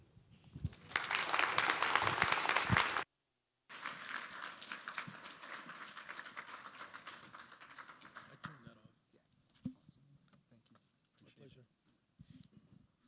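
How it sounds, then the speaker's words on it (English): Audience applause at a business day event, a burst of clapping that briefly cuts out, resumes, then fades into scattered claps as a voice speaks over the tail. "Another round of applause, please, for Rich."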